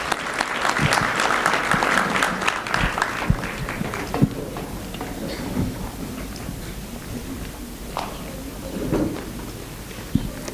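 Applause at a junior high school annual day awards ceremony in Nairobi, with dense, lively clapping at first that thins out into scattered claps and murmuring by the end.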